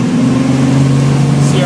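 A motorboat engine runs steady and loud at around 3,000 RPM while towing a waterskier at about 10 miles an hour, a close, sustained drone with a strong low hum.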